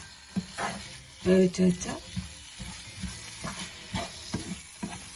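Tomato and masala are sautéed in a pan while making soybean curry, giving a soft, close sizzle with stirring clinks beneath intermittent talking.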